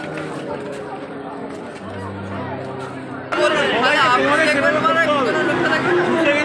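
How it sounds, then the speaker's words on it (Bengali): A dense late-night crowd at a Durga Puja pandal, a loud babble of many voices and footsteps all around, growing noticeably louder and closer partway through. "ভিড়টা জাস্ট দেখো এত রাত হয়ে গেছে তাও কত ভিড়"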